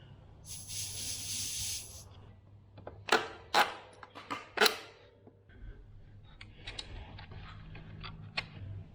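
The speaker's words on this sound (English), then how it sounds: "Let out a bit of air." Air hissing out of a Fox Float shock valve on a Sur-Ron X, with a broadband burst early, then several sharp clicks and taps under a low background hum.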